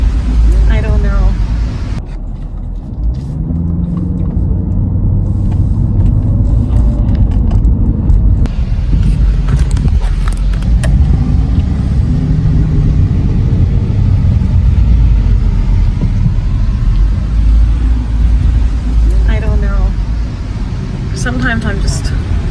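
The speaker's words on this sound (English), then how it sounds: "Buses are still running in Santa Barbara." Buses and cars roll along a Santa Barbara street, a continuous loud traffic rumble with passing engine swells, while a person talks over it.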